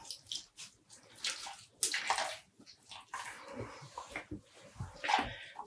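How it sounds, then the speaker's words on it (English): Water squeezes and drips out of dyed tweed yarn in irregular splashy bursts and trickles, close and fairly quiet, with a dog whimpering faintly nearby. "And squeezing out the water."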